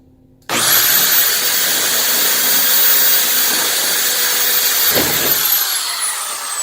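A power driver drives a screw into the plate of a Model 3589 vending delivery door, whirring loud and close with a continuous high whine for about six seconds and a brief dip near the end.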